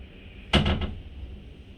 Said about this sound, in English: I'm going to use the switch on the wall and observe the door opening